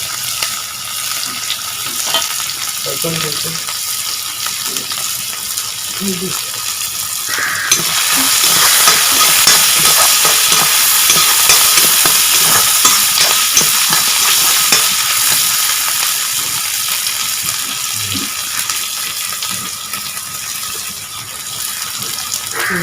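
Onion, ginger and garlic frying in a pan, a steady close hiss and sizzle that swells louder midway, with repeated scraping stirs and clinks of a utensil throughout and no talk.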